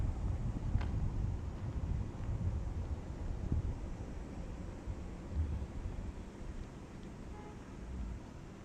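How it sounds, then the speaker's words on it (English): Strong storm wind of around 20 to 30 miles an hour buffets the microphone outdoors, making a constant low rushing roar that stays fairly even throughout, with no one speaking. "I apologize for any wind noise"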